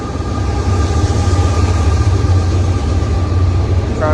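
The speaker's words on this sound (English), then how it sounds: "It's the train." A train passes close by, a loud continuous rumble and roar with a steady low hum that holds for the whole stretch, with no talking over it.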